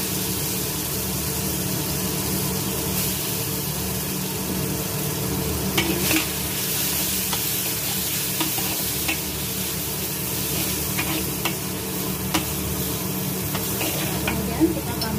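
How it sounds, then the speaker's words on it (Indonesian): Spice paste sautéing in about two tablespoons of frying oil in a wok for cassava-leaf buntil, a continuous close sizzle and hiss with occasional scraping stirs. "Kemudian kita tumis bumbunya ya. Kita tumis hingga harum ya."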